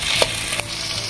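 Chopped onions fry in a pan with a steady close sizzle, broken by a couple of brief scraping stirs.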